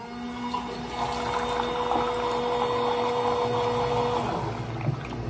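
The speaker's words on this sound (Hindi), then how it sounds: "बटन दबाओ, गर्म पानी।" A drink vending machine dispenses hot water with a steady mechanical pump hum and a continuous trickling pour for several seconds, close and even, fading at the end.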